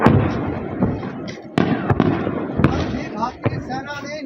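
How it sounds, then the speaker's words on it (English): Explosions and gunfire near the Pathankot airbase during an attack: several sharp, loud bangs and cracks, some close together, sounding under a voice that keeps talking throughout. "धमाके की आवाज तेज हो चुकी है। हम बिल्कुल एयरबेस के पास खड़े हैं"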